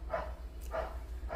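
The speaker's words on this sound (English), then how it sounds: "like dogs in my neighborhood. I can't do nothing but the dogs barking." Neighborhood dogs bark outside in three evenly spaced, moderately loud barks over a steady low hum.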